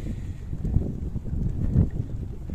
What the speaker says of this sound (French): Il y a un petit vent frais qui s'est levé là.